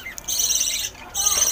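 Lovebirds (a red-eye lutino female and a normal rainbow male among a small flock) chirp in close, high bursts, with a brief pause midway before the calls resume.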